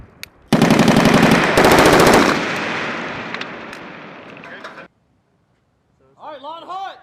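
US Marines fire an M2 Browning and an M240 machine gun on a live range: loud, dense bursts of rapid gunfire with a fading echo, then a short silence and a voice.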